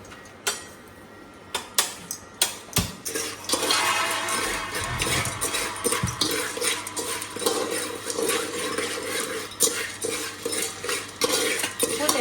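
A spoon stirs chevdo in a pan, producing repeated metallic scrapes and clinks against the pan in an uneven rhythm over a soft background sizzle, with no talking.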